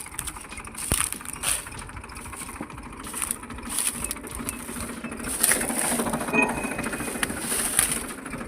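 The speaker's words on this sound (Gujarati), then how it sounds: "ટ્રેક્ટર આવ્યું છે" A tractor engine runs steadily on a farm during a maize harvest, a continuous rhythmic chugging hum that holds close and fairly loud for the whole stretch, with no voices over it.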